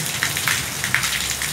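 Rain falls steadily outdoors, a dense hiss of drops pattering on surfaces with a few sharper splashes scattered through it, heard alone.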